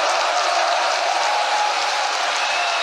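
A large convention-hall crowd at a religious rally in Incheon's Songdo Convensia applauds in a dense, even wash of clapping that holds steady and loud from start to finish.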